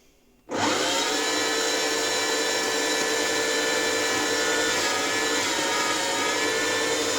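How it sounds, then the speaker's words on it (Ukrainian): An electric grinder kicks on abruptly and then runs steadily while mincing raw meat with potatoes, onion and garlic, a loud close continuous motor whine with no speech. "Так, м'ясо з картоплею змолола."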